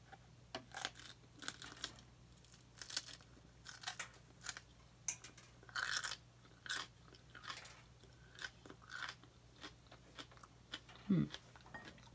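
Close, crisp bites and crunchy chewing on a raw Ají Cachucha chili pepper, coming in short irregular bursts over a quiet background with no talking.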